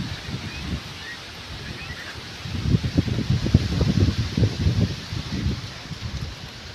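Strong gusty wind ahead of a Kalbaishakhi storm, with a low steady roar that swells midway into heavier buffeting against the microphone and rustling leaves.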